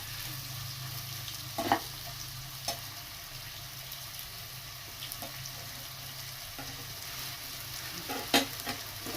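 Onion lightly sautéing in oil makes a soft, steady sizzle, broken by a few quick scrapes of a spoon against the pan; close and quiet, with no talking.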